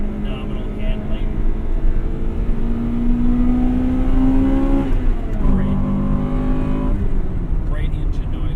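Acura NSX engine revving with a steady, loud harmonic drone that climbs in pitch, dips briefly around mid-clip and rises again, close and continuous, heard on its own.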